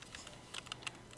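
Several quick keystrokes on a computer keyboard, typing a web address, sound as light, soft clicks close by in a quiet room.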